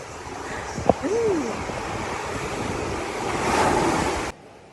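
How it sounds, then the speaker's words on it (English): Surf washes steadily at Winnifred Beach, with a continuous rush of waves and wind buffeting the microphone, swelling louder near the end before cutting off abruptly. "We're at Winnifred Beach"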